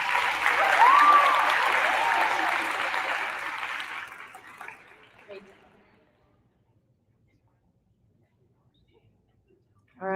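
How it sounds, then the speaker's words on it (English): Applause for sixth grade students at a school awards assembly, a dense crowd clapping that holds steady for about four seconds, then thins and dies away to silence. "give them another round of applause"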